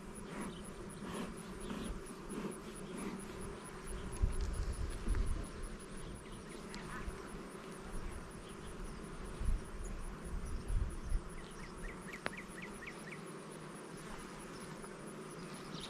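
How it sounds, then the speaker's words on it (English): Honeybees buzz steadily at an open, smoked beehive as frames are handled, a dense close drone holding for the whole stretch with a few brief louder swells. "And they are some working bees."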